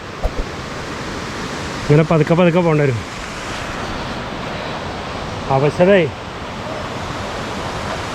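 The third waterfall at Thusharagiri roars steadily nearby, a constant wash of falling water, while someone speaks briefly over it twice.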